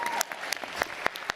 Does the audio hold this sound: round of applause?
yes